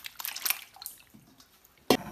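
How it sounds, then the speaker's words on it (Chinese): Pieces of chicken fat drop into a pot of cold water: light drips and small splashes, then one sharp, close splash near the end. "把切好的鸡冠油给它冷水下锅焯一下子"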